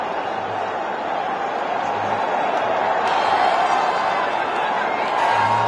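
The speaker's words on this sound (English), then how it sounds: "Even the spectators, they'd gone quiet for a while, but now just beginning to make the right noises." Spectators in a cricket stadium during an ICC final, a broad, steady roar of crowd noise and chatter that builds slightly, heard from a distance under commentary voices.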